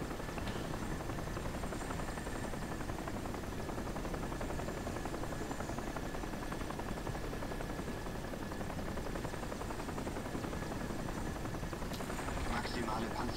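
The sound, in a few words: helicopter flying, from a video game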